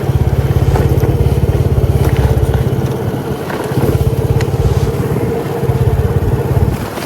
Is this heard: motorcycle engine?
yes